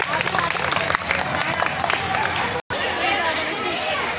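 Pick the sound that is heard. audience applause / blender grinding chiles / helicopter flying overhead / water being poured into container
audience applause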